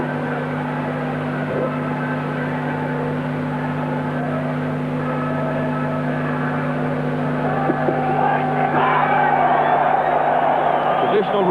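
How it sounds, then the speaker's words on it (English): A stadium crowd at a 1968 New Zealand versus Australia rugby league match sends up a sustained, steady roar at kickoff, swelling louder near the end, with a commentator's voice over it. "Traditional roar goes up from the crowd"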